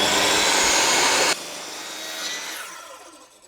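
A table saw cuts through wood with a loud, dense roar that suddenly drops as the cut finishes, then the blade spins down with a fading whine, close and with no talk.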